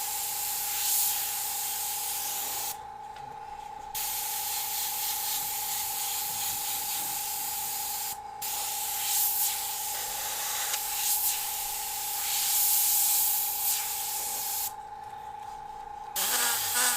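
Airbrush hissing steadily as paint is sprayed on fire and skull artwork, a continuous close airy spray broken by short pauses, with a faint steady tone running underneath.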